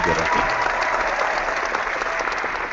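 An audience at a sales and marketing boot camp gives a dense, loud round of clapping, close and continuous for a few seconds without a break.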